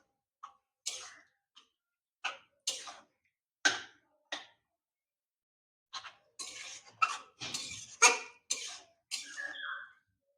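A spatula stirs a papaya mixture in a pan as it cooks down into a sweet, with a run of close, sharp scraping and clacking strokes, sparse at first and then quicker and busier, with no one talking.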